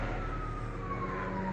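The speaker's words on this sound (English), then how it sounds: "It's a helicopter with a siren on." A low-flying helicopter carries a wailing siren, heard continuously and loudly with a steady rotor drone beneath it, no talking.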